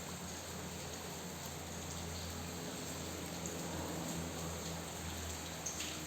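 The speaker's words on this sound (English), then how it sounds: "it's raining so much today" Heavy rain falling outdoors, a dense steady hiss that never lets up, fairly faint and even from start to finish with a low hum underneath and no voices.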